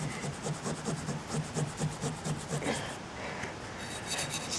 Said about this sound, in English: It's a lot of elbow grease. Just keep rubbing and rubbing.